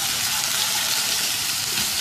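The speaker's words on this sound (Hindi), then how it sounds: "2-3 मिनट इस लहसुन अदरक को तेल में फ्राई करेंगे।" Chopped garlic and ginger fry in hot oil for a highway-style chicken karahi, a loud, dense, continuous sizzle close to the pan for the whole moment.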